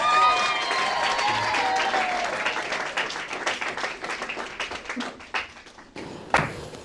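Congregation at a religious wedding ceremony breaks into loud, sustained applause and cheering that fades into scattered claps over several seconds, with crowd voices mixed throughout.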